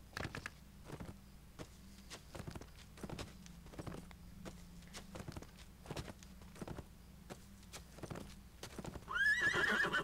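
A horse in the online game LOTRO clip-clops steadily at a walking pace with a rhythmic beat of hooves, then breaks into a loud whinny right at the end.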